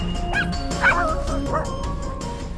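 Schnauzer dogs at a client's house yip, bark and whimper in quick excited bursts, several short high-pitched cries over a busy noisy room background.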